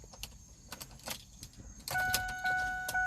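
A Ford Five Hundred sedan with a freshly repaired exhaust and a replaced torque strut mount bushing is started up: clicks and key jingles, then the engine catches and settles into a steady, fairly quiet idle close by.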